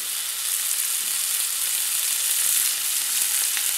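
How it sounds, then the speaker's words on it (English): Steaks sizzle steadily in a smoking hot oiled pan, a bright, continuous frying hiss held at an even, fairly loud level from start to finish with no talking. "We wanna start putting these steaks into the pan"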